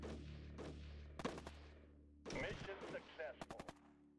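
Machine gun fire in the strategy game Shadow Empire: faint bursts of rapid shots come in clusters over a low steady hum, with the quick cracks bunched near the start and again near the end.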